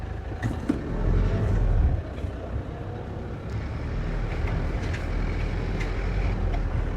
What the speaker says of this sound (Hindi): एक मिनट जी, हाई गियर लगा लेते हैं।